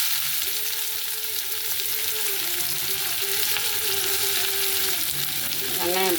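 Onions frying in hot oil in a wok for a prawn thokku, a steady close sizzle running throughout with faint background tones and a brief louder stir near the end.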